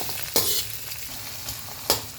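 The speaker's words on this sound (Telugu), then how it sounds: "ఇప్పుడు ఇది ఫ్రై చేసుకుందాం బాగా" Potatoes and curry leaves fry over a high flame in a pan for poha, a close, continuous bright sizzle broken by two sharper bursts of stirring.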